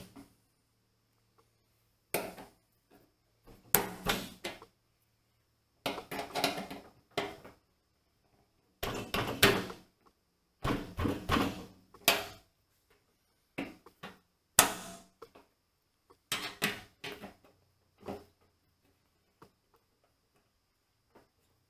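Drift or screwdriver knocking parts of a Holley 12-304 fuel pump during an install on a 1979 Camaro with an LS swap: sharp metallic taps in irregular clusters of quick strikes, close and fairly loud, with short silent gaps between bursts.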